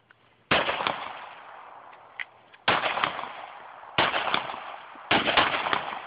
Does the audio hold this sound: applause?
no